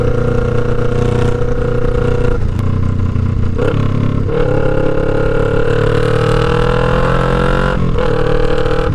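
A 2009 Kawasaki Ninja 500 EX500 motorcycle engine at high RPM gives a loud, close, shrill drone that holds steady for the whole stretch, with a few brief dips and surges in pitch as the revs shift.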